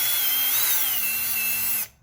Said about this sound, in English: I'll keep drilling.